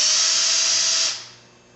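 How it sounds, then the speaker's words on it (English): A power drill with a 1/4 inch bit bores through a housing, a loud high steady whine that cuts off and winds down near the end. "Now you're going to be drilling in through this housing is all you're drilling through."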